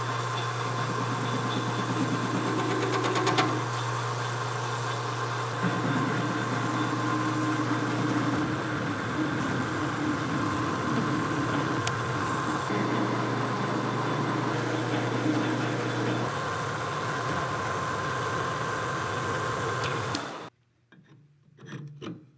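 Handlebar ends being machined on a lathe, a steady droning motor hum overlaid with a rough scraping cut that shifts in texture several times before the machine shuts off near the end.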